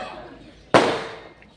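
A single sharp firecracker bang goes off at a moderate distance, then decays quickly over a faint background.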